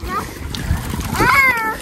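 Children splashing into water at a resort in Alibag, with brief close splashes and churning water mixed with children's voices and excited chatter.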